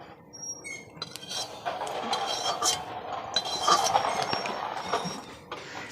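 A freshly washed metal kadai wok is set down on a stove, giving a series of clinks and metallic knocks and scrapes that rise and fall over about six seconds, close by and fairly clear.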